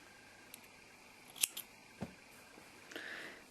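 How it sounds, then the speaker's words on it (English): Scissors cutting off crochet yarn at the end of a hat: a few faint, crisp snips close by in an otherwise quiet room. "And then cutting off your yarn"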